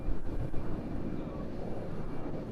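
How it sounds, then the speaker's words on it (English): An American Airlines airliner passes overhead at night near Honolulu airport, giving a steady, fairly distant low rumble that stays even throughout. "There is something overhead. That is the other American Airlines I was telling you about."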